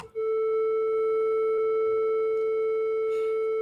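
A steady synthesizer triangle-wave tone holds at one pitch for several seconds, clean and continuous with faint upper harmonics and no voices.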